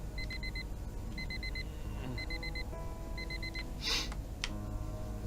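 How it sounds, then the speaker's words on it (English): An alarm clock in the video game Fragments of Him beeps in four quick bursts of four shrill electronic tones, evenly spaced and clear over a low background hum. "Harry never wakes up from my alarm."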